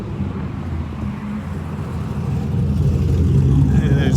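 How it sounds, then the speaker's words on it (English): A loud car engine rumbling on a street as a vehicle drives past, low-pitched and swelling louder toward the end as it nears, with wind noise on the microphone. "there's a loud engine behind me as this 93 drives by me"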